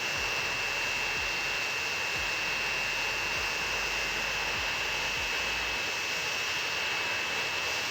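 The jet engine of an X-Plane aircraft in the Transport Fever 2 video game gives a loud, continuous roaring hiss with a thin high whine, steady and unbroken throughout.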